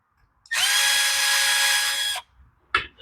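A cordless power driver with a Torx 25 bit backs out carburetor screws on an Echo SRM 225 trimmer: one loud, steady whirring run of about a second and a half, then a brief second burst, close and with no talk.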